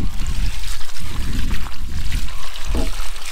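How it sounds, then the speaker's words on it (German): Water poured from a watering can onto wasabi plants growing in a garden, a steady close splashing trickle with a few gurgling surges. "Und noch eine Kanne Wasser."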